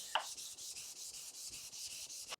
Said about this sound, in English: Before I attach this, I'm going to do some sanding.